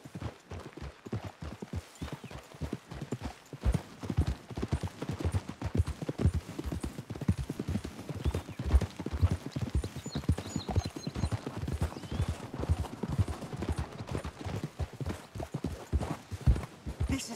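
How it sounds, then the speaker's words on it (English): In the Red Dead Redemption 2 video game, horses' hooves clip-clop in a steady, close rhythm of sharp strikes, with an occasional whinny, continuing for the full stretch. "We should leave the horses."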